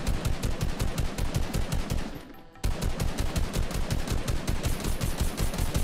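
Rapid automatic gunfire from a Fortnite Battle Royale match hammers out in a dense, steady stream. It breaks off briefly near the middle, then resumes just as loud and continuous.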